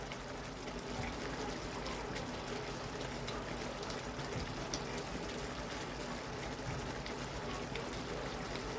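Coconut milk from a packet is poured into a bowl in a home kitchen, giving a faint, steady liquid trickle for several seconds with no talking.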